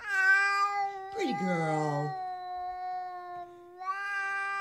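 A cat meowing in drawn-out, harmonic wails with a sharp yowl in the middle, close and clear, while a person speaks briefly over it.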